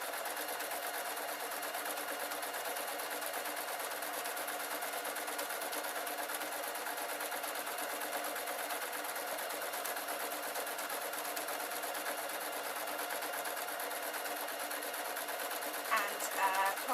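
A sewing machine stitches a fabric knitting needle roll. It gives a continuous, even hum that runs through the whole clip with no pauses, fairly faint and steady, with a small clatter at the very end.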